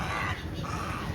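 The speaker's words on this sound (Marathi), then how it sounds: "अरे तू बगळा आहे ना, कावळ्यासारखा काय ओरडतोय." A young heron chick near the coastal town of Fort Kochi, Kerala, gives harsh, crow-like caws that run steadily through the short moment, close and fairly clear, with no talk over them.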